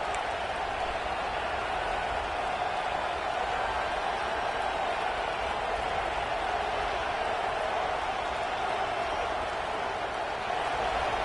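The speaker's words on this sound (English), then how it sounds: "this crowd is fired up. Listen to this noise here." A broad, steady roar of a large stadium crowd at a USC versus Georgia football game, loud and continuous throughout, with no distinct voices standing out.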